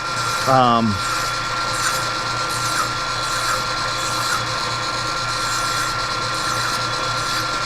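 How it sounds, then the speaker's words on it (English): A hand file rasps rhythmically across metal, rounding off a homemade bead roller die, in repeated close scraping strokes over a steady workshop hum, with a brief rising mechanical whine near the start. "So all I'm doing here is rounding this off with the file."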